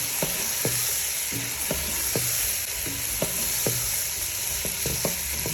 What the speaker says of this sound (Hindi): टमाटर और मटर इकट्ठे ही भून जाएंगे